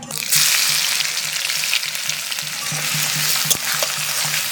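Chopped onion hitting hot oil already seasoned with whole cumin, dried red chillies and bay leaves, sizzling and frying steadily with a few stirring sounds, close and loud, no voices.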